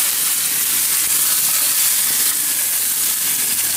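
Chicken pieces for curry sear in a pan with little water, a loud, continuous hissing sizzle close by, steady and unbroken with a faint crackle running through it.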